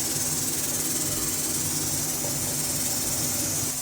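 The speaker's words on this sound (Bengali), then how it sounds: "আর এখানে প্রেশার কুকারে মাংস সিটি বসিয়ে দিচ্ছি।" Meat cooking in a pressure cooker, whose steady hiss of escaping steam runs unbroken and fairly faint throughout, with no talking.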